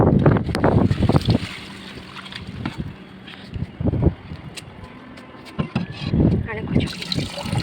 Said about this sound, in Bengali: ও খুব হাওয়া শুরু হয়েছে এবারে।